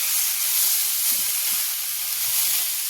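Kundru (ivy gourd) sabzi frying in a kadhai, giving a steady, even sizzle and hiss that runs throughout with a couple of faint low stirring knocks, no voices.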